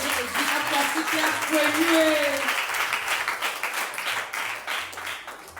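Church congregation applauding and cheering, a dense wash of clapping that swells then settles, with a preacher's voice and crowd voices over it.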